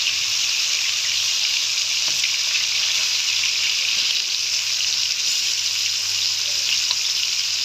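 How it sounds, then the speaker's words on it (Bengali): Chicken pieces frying in hot oil for a spinach and meat curry, giving a steady, loud, close sizzle and crackle that runs unbroken throughout with no talking. "মুরগির মাংসটা আমি খুব ভালোভাবে তেলে ভেজে নেব। তেলটা গরম হয়ে এসেছে।"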